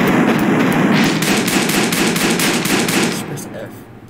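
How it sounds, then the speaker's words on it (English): A gun fires in the People Playground game as a rapid string of loud, close shots that run together into a dense burst, then fade out. "To make the gun shoot."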